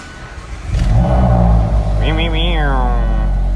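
A Cadillac CTS engine is started with the key: the motor catches with a loud rumbling burst, then revs briefly and settles into a steady idle close to the listener.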